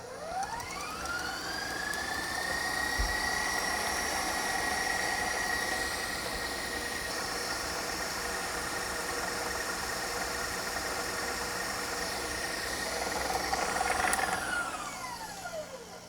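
A kitchen mixer creaming butter spins up to high speed with a rising whine, holds a steady loud motor hum for several seconds, then winds down at the end.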